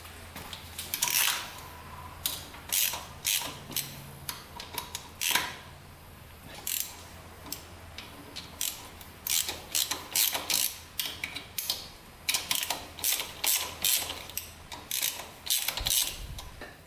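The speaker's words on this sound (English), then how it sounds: "let's try to tighten the chain on the 400EX" A ratchet tightening the chain on a Honda 400EX quad, with quick repeated bursts of close metallic clicking that start and stop in short runs throughout, with no talk.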